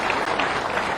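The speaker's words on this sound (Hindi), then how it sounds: "तालियां बजाकर उनका भी अभिनंदन करें" An audience at a political welcome event claps continuously, a dense, loud wash of applause filling the whole moment without pause.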